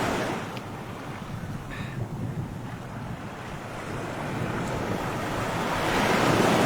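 Sea waves at the seaside, a continuous broad rush of surf mixed with gusting wind buffeting the microphone, slowly swelling louder toward the end, with no voices.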